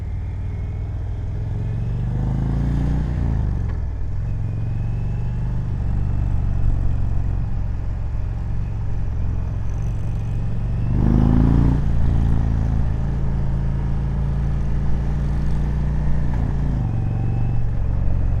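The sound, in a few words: Indian Chieftain Darkhorse 116 Stage 2 motorcycle engine exhaust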